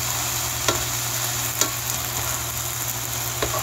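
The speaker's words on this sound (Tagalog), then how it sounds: "Pure Foods na chicken tocino. May cooker din tayo mga katropa. Kuryente lang. Prito lang ito." Chicken tocino sizzles steadily in a hot pan on an electric cooker, with a low electrical hum underneath and a few sharp utensil clinks.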